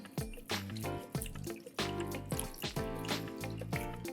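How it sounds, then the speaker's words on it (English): Fresh water poured into a kitchen pan for pumpkin soup, close splashing and dripping bursts with ringing metallic tones, uneven and intermittent, no speech. "I'm gonna put some water, fresh water, in the pan."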